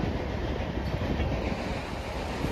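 A train rolls past on the railway near a level-crossing gate, a loud, steady rumble and rattle close by that fills the whole moment without a break.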